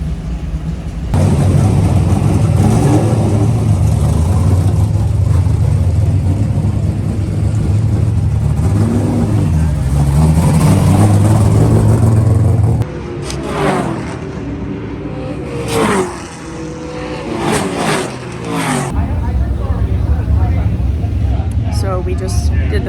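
A race car engine drones loudly at Stafford Motor Speedway during a practice outing on fresh tires, holding a heavy sustained roar before dropping away to scattered revs and passing engine sweeps, with people talking over part of it.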